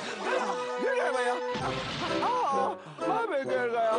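A cartoon character tumbles down with a brief noisy crash midway, surrounded by squeaky, animated character voices.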